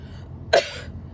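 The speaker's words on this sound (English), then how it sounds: "that I just started coughing" A single short, sharp cough bursts out close by against a quiet background, then fades.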